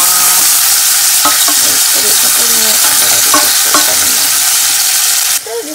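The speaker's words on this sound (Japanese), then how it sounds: "さっきね、ちょっと軽く炒めた玉ねぎを一瞬入れて、" Lightly pre-fried onions sizzle and crackle loudly in a hot pan with beef for German sauerbraten, a steady close frying hiss punctuated by stirring clacks, ending abruptly.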